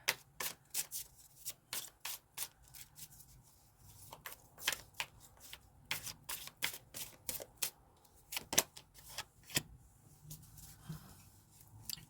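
Tarot cards being shuffled in quick, crisp riffles and flicks, repeated bursts of papery snaps across the whole stretch with no talking, fairly soft and close.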